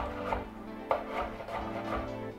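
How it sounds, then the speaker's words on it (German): A knife taps sharply on a cutting board while asparagus is sliced diagonally, about five close, evenly spaced chops at a moderate pace. "Den Spargel tun wir auch schräg schneiden."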